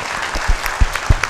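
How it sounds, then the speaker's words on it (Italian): A brief burst of clapping with a few loud distinct claps standing out, short and close. "Partito spontaneo l'applauso per quello che fate"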